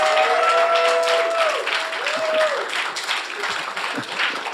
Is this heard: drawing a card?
no